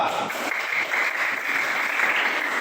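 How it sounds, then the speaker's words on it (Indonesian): Classroom applause for a student group, steady dense clapping from many hands filling the room, even and sustained throughout. "tepuk tangan untuk kelompok 2"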